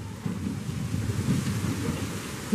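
Outdoor wind buffets the microphone in a steady low rumble with gusty swells, with no voices heard.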